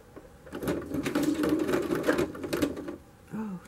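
A sewing machine stitches through a flat layer of gauzy tulle skirt fabric in a close, fast rattling run of about two and a half seconds, stopping before a brief spoken voice.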